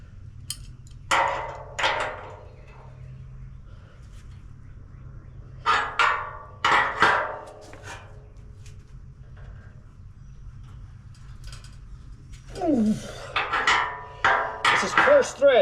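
Wrench working a coarse-thread bolt on a homemade frame straightener pulling a wrecked Chevelle frame, close metallic clicks and knocks in short irregular bursts separated by quiet gaps, with a voice briefly heard near the end.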